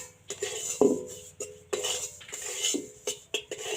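Chhana mixture for gujiya sandesh is stirred in a metal pan, giving repeated close scrapes and clinks of the spoon against the pan in an uneven rhythm, with no talking.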